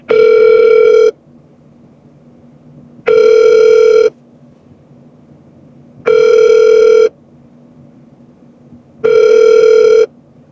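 A telephone ringback tone repeats four times in even bursts about three seconds apart while an automated phone system transfers the call, loud and clear with quiet pauses between rings and no talking.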